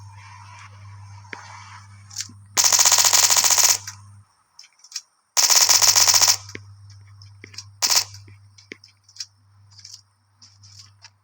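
Bursts of rapid machine gun fire in a video game, two long sustained volleys and a shorter one, loud over a steady low hum with scattered clicks.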